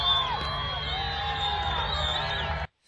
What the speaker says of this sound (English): You can hear people cheering, whistling, and celebrating that they can see their end goal in sight, El Paso.